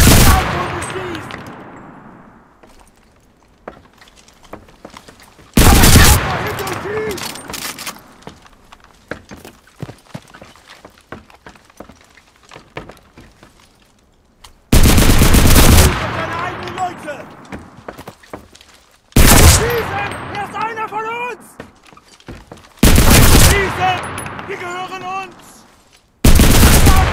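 Bursts of automatic MKB-42 H rifle fire in the shooter game Enlisted come in several loud, sharp volleys separated by quieter stretches with footsteps and voices.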